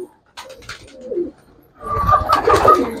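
Pigeon cooing close by, a few soft low throaty coos followed by a louder, fuller burst of cooing, with no voices.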